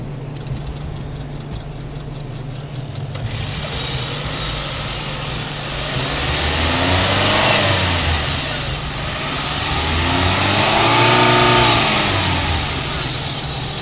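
A Mitsubishi Outlander PHEV plug-in hybrid starts up, then its engine idles and revs in two rising, swelling surges, fairly close, with no talk over it.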